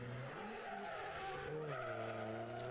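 Mazda MX-5 drift car at the British Drift Championships, Three Sisters circuit, with tyres skidding and squealing over a wailing engine that rises and falls, loud and continuous throughout.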